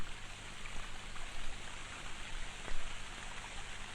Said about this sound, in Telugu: షవర్ సౌండ్ వస్తుంది